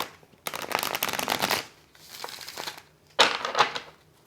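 Italian Lo Sorbino tarot cards being shuffled: three separate bursts of crisp, riffling card noise, close and fairly loud, with short quiet gaps between them.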